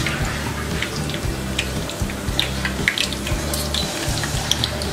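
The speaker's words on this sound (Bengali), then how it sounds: "তেলটা ভালো করে এভাবে ঝরিয়ে নিতে হবে।" Fried egg pitha rest in a strainer while hot oil drains off, giving a steady wet hiss with scattered small crackles and drips, close by, and no talking.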